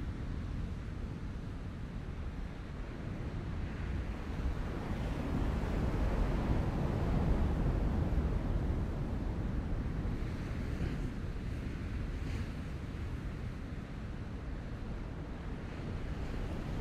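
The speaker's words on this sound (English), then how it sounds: "You can hear those waves rolling in" Ocean waves rolling in and out, a steady washing roar that swells to a louder peak midway and then eases back, with wind-like noise and no voices.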